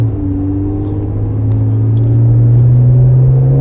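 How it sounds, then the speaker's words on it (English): A 1991 Acura NSX with a V6 and four-speed automatic on the move, its exhaust giving a steady, loud low drone that swells slightly as the engine pulls, heard from inside the car with no talk. "It's got a good little exhaust note"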